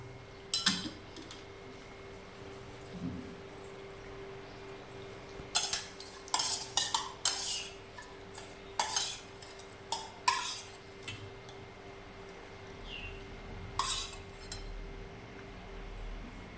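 A spoon clinks and scrapes against a metal frying pan while stirring a tempering, in scattered bursts, close by, with quiet gaps between the stirring.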